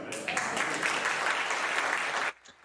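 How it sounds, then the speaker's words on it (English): Audience applause at a magic show fills the room with steady, dense clapping, then cuts off abruptly near the end, leaving a brief quiet tail. "And again, generous applause. Very generous applause"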